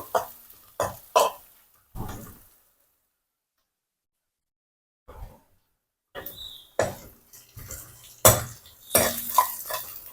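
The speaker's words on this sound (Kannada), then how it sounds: "ಹಾಗೆ ಇದನ್ನು ಕೂಡ ಸ್ವಲ್ಪ ಹುರ್ಕೊಳ್ತೀನಿ, ಹಸಿ ವಾಸನೆ ಹೋಗೋವರೆಗೆ ಸ್ವಲ್ಪ ಇದನ್ನ ಹುರ್ಕೊಂಡ್ರೆ ಸಾಕು" Cumin and garlic being stirred and roasted in a pan: scattered scraping and clinking taps from a spoon, a quiet gap midway, then more stirring strokes.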